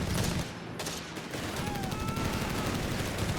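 Rapid bursts of gunfire crackle over a constant din in Company of Heroes 3, with a sharp grenade blast early on and continuous shooting throughout.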